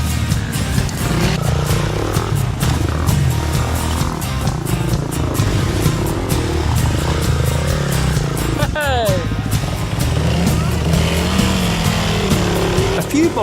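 Small TTR 250 motorbikes cross a jungle water crossing in Cambodia, their engines droning and revving loudly and steadily for over ten seconds with brief splashing and a passing whine, mixed with voices.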